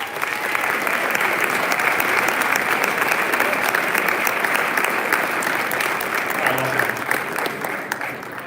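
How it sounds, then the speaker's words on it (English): An audience at a fall sports award ceremony applauds the varsity offensive line players, steady dense clapping that holds at full strength and fades slightly at the very end, with no talk over it. "stand so we can applaud you."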